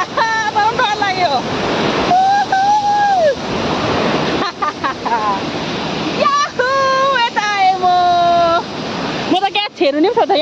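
The Rambi Khola river near Mungpoo rushes beneath a new steel bridge, a continuous loud roar of water and wind close by, with people talking and exclaiming over it throughout.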